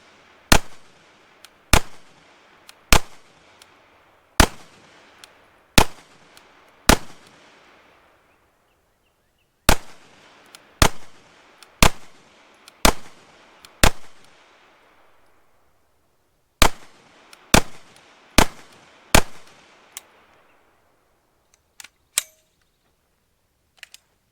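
A Cobray M-11/9 fires through a 32-round Pro Mag as loud, sharp gunshots in three spaced groups of evenly paced single reports, each ringing out with a long echoing decay, followed by a few fainter knocks at the end.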